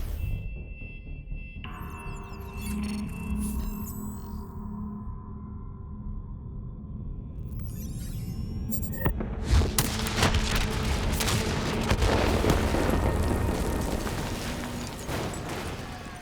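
A detonated charge in Call of Duty: Black Ops III bursts midway with a sudden loud boom, followed by a long rumbling roar and crackling debris after a quieter stretch of tense ambience.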